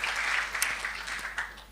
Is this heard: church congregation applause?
yes